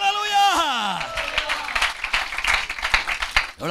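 A Tamil church congregation claps during a sermon. A voice sings or speaks at first, then a loose, busy patter of many hands clapping follows, moderately loud.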